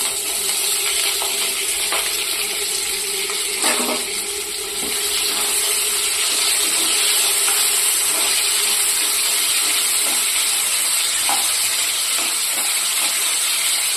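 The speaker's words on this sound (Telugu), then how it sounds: "మనకు ఆయిల్ వేడైన తర్వాత ఇందులోకి పచ్చిమిర్చి వేసేస్తున్నాను" Green chillies frying in hot oil in a home kitchen, a steady bright crackling sizzle that runs the whole time, close and loud, with occasional louder pops and stirring clinks and no talking.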